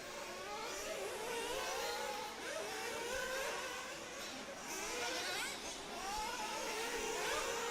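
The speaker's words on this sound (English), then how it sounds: "Helder, just drop back to the next car coming past, the blue one, I think." Nitro RC buggies race past at a European championship qualifying session, their small engines a faint, continuous high buzzing whir that rises and falls as they go by at a distance.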